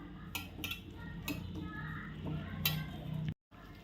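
Spoon clinks and stirs through a thick chili fry batter seasoned with salt and fresh coriander in a bowl, with repeated scraping taps close by and a brief silent gap near the end.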